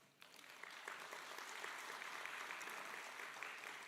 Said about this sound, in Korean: 따뜻한 격려의 박수를 보내드립니다